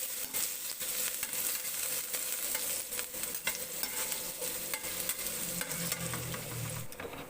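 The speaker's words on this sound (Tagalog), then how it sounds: "At ay i-saute ang garlic o bawang." Garlic sizzles steadily in a hot pan for a creamy Filipino chicken macaroni soup, with stirring scrapes over a continuous close frying hiss, no voices.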